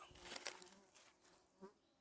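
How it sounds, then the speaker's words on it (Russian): Mosquitoes buzz faintly in a forest after rain, a thin insect whine rising and fading in short bursts near the ear against quiet surroundings. "комары злые, как собаки"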